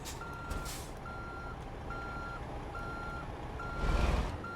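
A truck backing up emits a steady series of evenly spaced reversing beeps over continuous engine rumble, with a brief hiss of air brakes near the end.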